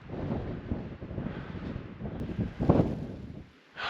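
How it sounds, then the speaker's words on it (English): Wind gusting across an open mountainside on a snowy hike near 11,300 feet, a steady rough buffeting on the microphone that swells and peaks near the end, with no voices. "The wind is picking up"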